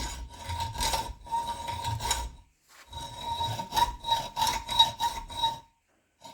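A fine-toothed hand saw blade cuts through a wooden board in steady back-and-forth rasping strokes, close up and fairly loud, with a short pause midway and near silence at the end.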